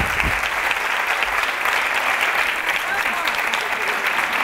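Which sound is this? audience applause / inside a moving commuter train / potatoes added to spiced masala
audience applause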